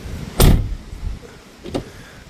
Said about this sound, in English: It's so loud and clunk when you shut it like metal on metal.